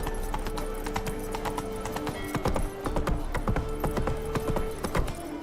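Roach, the horse from The Witcher 3, trots with steady, close clip-clop hoofbeats in a continuous rhythm, with a brief whinny-like tone and faint ambient game sound behind.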